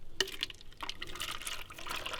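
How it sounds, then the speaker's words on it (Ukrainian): Liquid bee feed is poured into a bottle of about a litre, a steady close trickle and gurgle of liquid filling the vessel that runs unbroken throughout with no talk. "тому по пів такої бутилки я наливаю"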